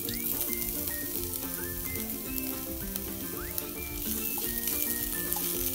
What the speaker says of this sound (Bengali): এবার এতে আদার জুলিয়েন্সগুলো আমি দিয়ে দেব।